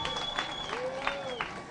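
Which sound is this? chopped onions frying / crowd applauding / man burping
crowd applauding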